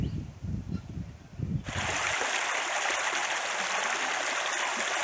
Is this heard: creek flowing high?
yes